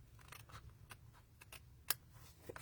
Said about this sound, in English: Now I'm going to trim this piece off